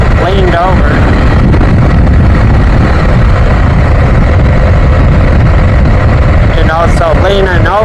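Steady roaring wind buffet and engine drone from a motorcycle ridden with a Puig touring windscreen, loud and continuous, with someone talking over it.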